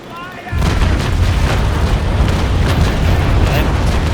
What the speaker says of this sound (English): Just to make those last few cannons hit.